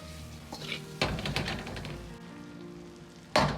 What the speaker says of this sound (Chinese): 开大火快速翻炒几下，炒出锅气，炒出香味